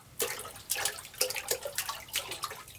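Hands pushed through water in a laundry tub to imitate someone wading, producing close, rhythmic sloshing splashes about every half second, with no other sound.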